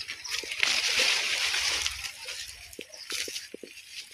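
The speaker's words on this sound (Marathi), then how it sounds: "इथं नळाचं पाणी चालू आहे" Running tap water splashing outdoors in a sunny yard, a steady broad wash with irregular spatters and drips, moderately faint and close, with no talk over it.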